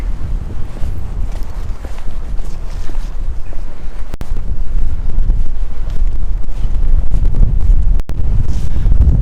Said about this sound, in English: There's the wind. We're coastal now.